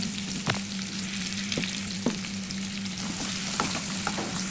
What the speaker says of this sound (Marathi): तेलात कढीपत्ता आणि कांदा टाकून भाजून घेते